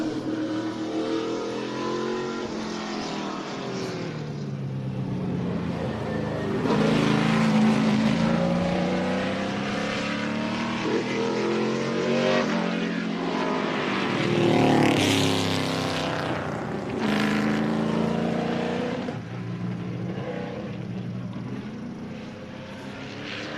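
NASCAR Dodge R5 P7 race car engine screaming around a short speed ring course, loud and continuous with rising and falling revs as the car passes, peaking in several swells, no talk.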